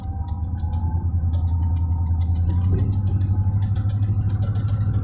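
Tuned-up Chevy Caprice engine running steadily at idle with a deep, even low rumble and a fast rhythmic ticking clatter over it, close and fairly loud, no talking.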